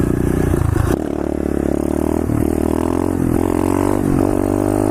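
Pit bike engine held at a loud, steady high rev in third gear while the front wheel is up in a wheelie, with brief dips and pitch shifts as the throttle eases and comes back on.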